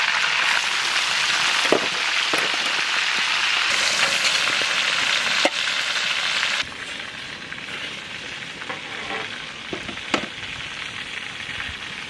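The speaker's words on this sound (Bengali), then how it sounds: "পেঁয়াজ আমাকে সুন্দর লাল লাল করে ভাজা হয়ে গেছে" Onions frying in a pan while cooking for a village meal, a steady loud sizzle and crackle running throughout, with a few sharp stirring knocks and a slight drop in level partway through.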